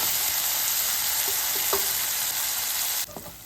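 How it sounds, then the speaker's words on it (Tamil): Onions and tomatoes sauté for hotel-style tomato rice, giving a steady, close sizzle broken by a few light spatula taps. The hiss drops noticeably near the end. "தக்காளி நல்லா சாஃப்டாக வதங்கட்டும்"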